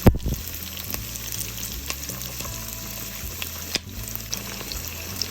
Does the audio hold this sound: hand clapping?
no